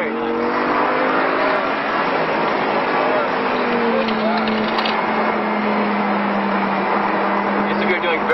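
An Audi R8 V10 sports car pulls hard around a race track, its engine note rising steadily and loud throughout, with an instructor's voice talking over the roar.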